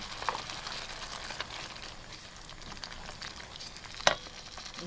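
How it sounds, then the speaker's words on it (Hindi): Ground spices with coriander powder, salt and garam masala roast in a hot pan for egg korma, giving a quiet continuous sizzle with a couple of sharp spatula clicks, no voices. "स्पाइसेस की भुनाई हो रही है"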